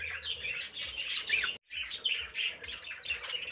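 Harlequin mutation birds chirp and squawk continuously while being handled, close and busy, with one brief silent gap partway through.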